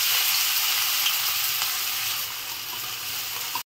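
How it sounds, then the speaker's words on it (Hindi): Chopped garlic, onion, ginger and chili frying in hot oil in a kadhai give a steady, close, bright sizzle that holds throughout, then cuts off abruptly at the end. "अब इसको हम लाल होने तक भून लेंगे।"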